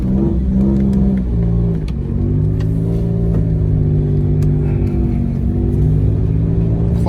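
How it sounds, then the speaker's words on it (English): A car engine idles and revs through its exhaust with a deep, throaty rumble, rising and falling in pitch a few times, loud and close with no talking. "Exhaust sounds nice."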